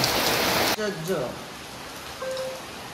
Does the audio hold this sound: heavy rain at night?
yes